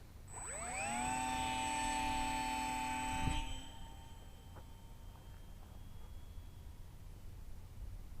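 Twin brushless motors of a Volantex Ranger 600mm RC plane spin up for launch, a whining tone that climbs quickly to a steady buzz, then fades abruptly into faint distant motor hum.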